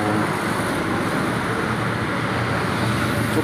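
Dense holiday road traffic of buses, motorcycles and private cars flows continuously on a pre-dawn highway, a steady roar of engines and tyres with no gaps.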